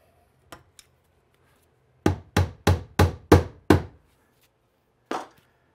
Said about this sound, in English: We're gonna go ahead and support this wiring while we're here with a 3/4 inch staple.